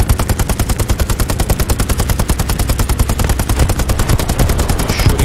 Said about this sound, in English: He's shooting right close to you there, Minstrel